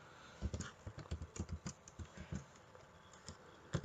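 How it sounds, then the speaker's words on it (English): Computer keyboard typing during a matrix calculation, a quick irregular patter of close, distinct keystrokes with brief pauses, alone without talk. "I'll type it again."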